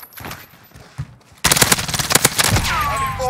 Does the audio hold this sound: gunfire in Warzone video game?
yes